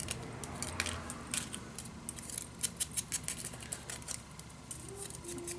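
Scissors cut paper for a Christmas mini album, making a run of crisp, quiet snips and clicks at an uneven pace against a soft background.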